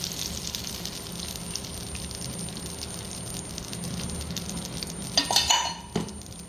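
A soft, continuous sizzle of a tadka tempering in hot oil hisses steadily, with a few clinks and rattles of a utensil near the end.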